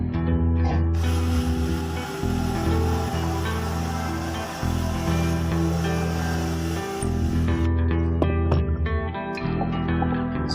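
A power drill bores a pilot hole into wood while a soil sifter is being built, its motor whining steadily and close up in a few long bursts with short breaks between them.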